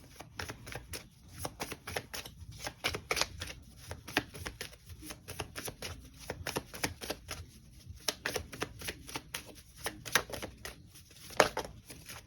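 A deck of cards being shuffled by hand, with rapid crisp riffling bursts repeating in quick rhythmic flurries, close and clear, no talking.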